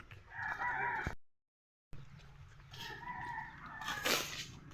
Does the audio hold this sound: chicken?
yes